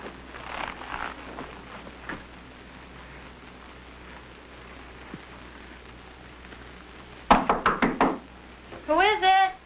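Police officers rap on a residential door, a quick burst of four or five loud sharp knocks, followed by a short shout-like vocal sound; quieter indistinct talk and room noise come before.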